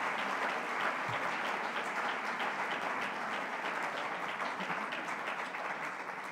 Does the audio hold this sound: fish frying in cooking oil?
no